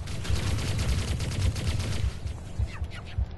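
Rapid automatic gunfire from Halo: Combat Evolved rattles in a dense, steady stream of close, loud shots, thinning into a few separate bursts toward the end.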